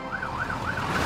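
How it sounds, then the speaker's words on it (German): Cartoon fire truck siren, wailing up and down steadily and loudly in a rising and falling pattern with no talk. "Sie sind so laut, dass sie Fionas Sirene nicht hören."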